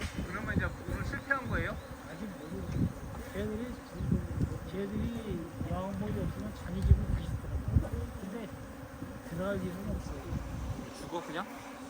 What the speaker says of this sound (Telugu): ఈ పక్క అంతా కూడా వచ్చేసాయి తేనెటీగలు